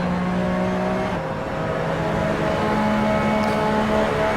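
A race car laps Daytona in Assetto Corsa, its engine droning loud and close with a sustained tone that drops at a gear shift and then climbs steadily, no voices.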